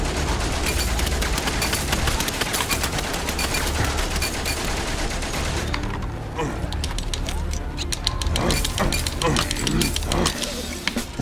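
Weapon reloading and clanking mechanisms in the video game Valiant Hearts, a dense rattling of ratchets and gears over distant gunfire, busy and continuous with a brief lull midway.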